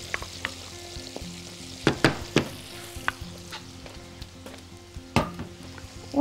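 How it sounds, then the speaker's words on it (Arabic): Chicken drumsticks bubbling in barbecue sauce in a pot while being stirred, a steady low simmer and sizzle with scattered sharp clicks and scrapes of the spoon against the pan, no voices. "هتلاقيه بيغلي مفيش يعني ثواني وهنلاقيه بيغلي، هنحط عليه صوص الباربيكيو كده"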